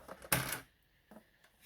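A paper trimmer slicing cardstock for a box card, one short sharp cutting swipe followed by a couple of faint clicks, quiet and close in an otherwise calm room.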